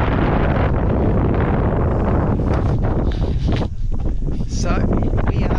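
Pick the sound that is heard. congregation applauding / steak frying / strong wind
strong wind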